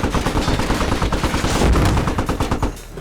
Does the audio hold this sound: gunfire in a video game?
yes